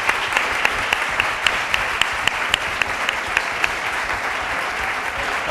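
Warm audience applause welcoming speakers at a Spanish charity conference, a dense, steady clatter of many hands with a few sharper claps standing out, loud and continuous throughout.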